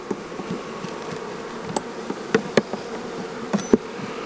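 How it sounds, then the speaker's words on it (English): Honey bees swarm thickly in an open hive, a dense continuous buzz with individual bees zipping close past and a few sharp clicks and taps from the frames. "there's just so many bees in here. It's just an insane amount of bees."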